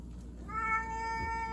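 A tomcat meows in complaint during a bath, giving a single drawn-out, fairly quiet meow close by with no talk over it.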